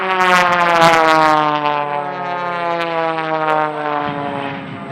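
A propeller stunt plane at an air show passes with a loud, steady droning engine tone that shifts slowly in pitch, close and prominent, with no voices over it.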